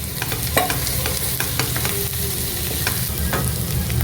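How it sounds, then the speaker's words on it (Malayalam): Half a cup of sliced small onions sautéing in a pan for soya chunk piralan: a loud, steady sizzle throughout, with scattered spoon clicks and scrapes from stirring, and no voices. "ഒരു 1/2 കപ്പ് ചെറിയ ഉള്ളി സ്ലൈസ് ചെയ്തതിടുന്നു. അത് ചേർത്തൊന്ന് വഴിക്കുക."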